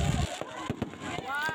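Fireworks burst at a grand display for a city charter anniversary celebration in Bago City, with a rumbling blast at the start followed by several sharp cracks and pops, some distant, amid crowd noise.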